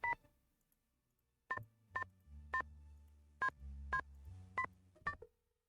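Telephone dialing in the Nancy Drew game Stay Tuned for Danger: a run of about eight clear touch-tone beeps at uneven intervals over a low hum, followed by a brief soft ring tone at the end.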